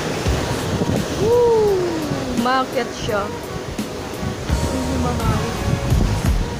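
Powerful ocean waves crashing at a rocky cave shoreline, a broad continuous roar of surf and spray, with people exclaiming and talking over it nearby.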